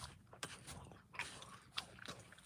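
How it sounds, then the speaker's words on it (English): A person chews food close to the mic, giving soft intermittent crunches and wet bites in an irregular rhythm over a quiet background, with no talking. "Give me a second, guys. I'm chewing."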